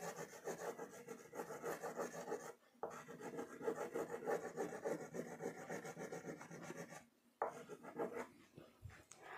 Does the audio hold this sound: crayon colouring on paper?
yes